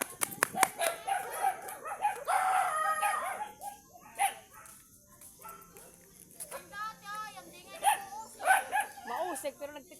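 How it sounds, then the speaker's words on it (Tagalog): Several dogs bark in sharp, repeated bursts close by at a rural spot, while a rooster crows a few times and people talk intermittently between the noises. "Mukhang galit sa akin yung mga aso dito eh."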